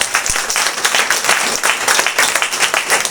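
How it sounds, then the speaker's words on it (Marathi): Dense, loud applause for a guest at a gathering, many hands clapping together in a steady, close roar for about three seconds with no pause. "याच्यासाठी एकदा जोरदार टाळ्या."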